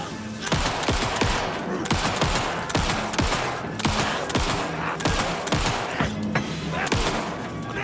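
Gunfire in the video game Alan Wake 2: a rapid, steady run of loud, close shots, about two per second, with thumping reports one after another.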